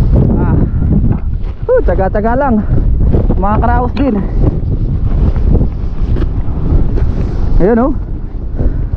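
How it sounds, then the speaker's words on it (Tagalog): Strong wind buffets the microphone at the seashore, a loud continuous roar under several bursts of talk. "Lakas ng hangin."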